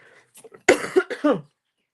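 Someone coughs several times in a quick cluster, close and raspy, after a few faint breathy sounds.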